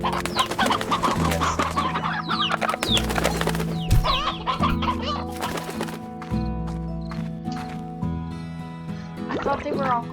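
Chickens in the video game Slime Rancher cluck and squawk continuously over a looping game soundtrack, busy and close throughout.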